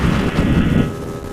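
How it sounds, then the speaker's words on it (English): Brand new GT300LC engine running at 60 mph, a loud steady broadband roar with rushing wind noise, continuous and close, with no voices. "Remember, this is a brand new engine."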